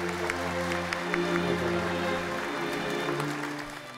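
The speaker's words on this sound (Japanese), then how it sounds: "ティームジャパンの皆さんに盛大な拍手をお願いいたします" An audience at a Rotary district conference gives Team Japan a steady round of applause, a dense even clapping that fades out near the end.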